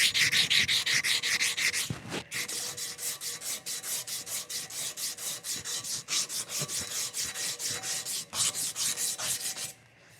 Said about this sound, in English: I got 80 grit, inch wide. It's a cloth backing.